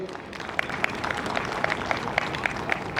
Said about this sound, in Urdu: بہت بھرپور تالیاں ڈاکٹر صاحب کے لیے